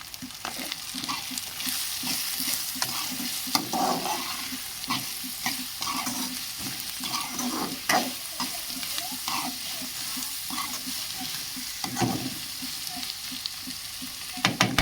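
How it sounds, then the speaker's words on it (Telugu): A spoon scrapes and stirs a potato curry base with cumin powder in a sizzling pan, rhythmic clacks and scrapes over a soft, steady frying hiss. "ఇప్పుడైతే కలుపుకుందాము."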